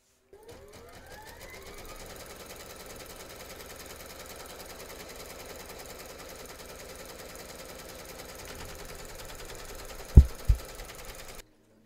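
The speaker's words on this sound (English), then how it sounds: "Pop your hoop into your machine and stitch round number 2" An embroidery machine stitches the second round on an in-the-hoop teddy and unicorn bag, a fast, even mechanical chatter that runs steadily and close, then stops with a couple of sharp clunks near the end.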